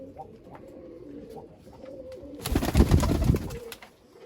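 A pure Sialkoti pigeon coos in a pigeon loft in Jammu: soft, low coos come close at first, then swell into a louder, fuller burst of cooing near the middle before fading.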